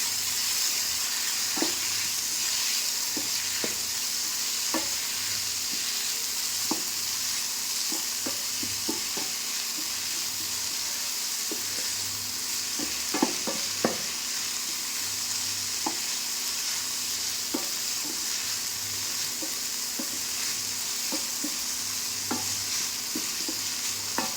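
Red and green peas roasting in a pan for mustard greens, a steady close sizzle beneath scattered scraping stirs at irregular intervals, continuous and fairly even in level throughout, with no voices.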